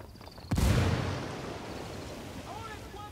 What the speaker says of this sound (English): That explosion woke some motherfuckers up.